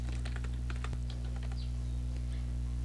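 Keys tapped on a computer keyboard while a city and postcode are entered, a quick burst of close clicks over a steady electrical hum.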